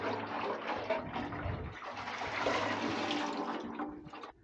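Rust remover liquid sloshes and splashes inside a Massey Ferguson 231 tractor's taped-up gas tank as it is shaken, a continuous close watery churning with surges, no talking.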